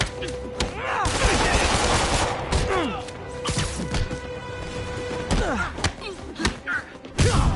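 Gunfire in the Spider-Man video game, rapid close bursts of shots with thuds and crashes mixed into a busy, loud action scene, with voices heard over the fighting.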